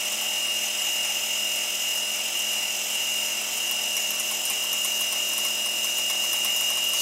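Steady high-pitched whine of a machine tool cutting a DIY AR insert holder, a continuous tonal drone with a hissing wash that holds evenly and loudly throughout, with no talking.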